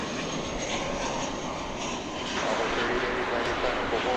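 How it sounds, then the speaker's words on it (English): An American Airlines Airbus A320 jet arriving at DFW Airport at night, with a steady broad engine roar that swells slightly as the aircraft approaches. "Got an American flight from San Antonio, an Airbus A320. We're going to pull out and bring you that aircraft as it comes"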